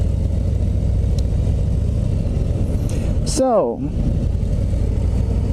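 A 2019 Harley-Davidson CVO Road Glide FLTRXSE engine drones loud and steady while riding, with someone briefly talking over it and a short tonal sweep near the end.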